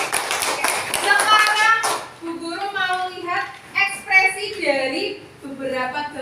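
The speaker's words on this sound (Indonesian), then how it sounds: "tepuk tangan buat kalian semua" A class of children clap together for a short burst in a classroom, sharp overlapping claps for about two seconds, followed by a teacher speaking in Indonesian.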